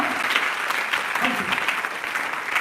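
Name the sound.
congregation clapping hands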